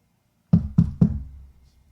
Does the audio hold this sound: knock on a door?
yes